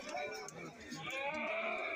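Goats of many sizes, including big bucks, bleat at a busy Kerala goat market during festival trading, their calls rising over a steady crowd murmur and voices talking nearby.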